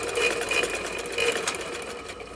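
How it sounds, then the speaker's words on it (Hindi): A sewing machine hums steadily and close up while stitching along the crease of a kurta's placket, a continuous whirring run without pauses. "और ऐसे हम सिलाई लगा देंगे।"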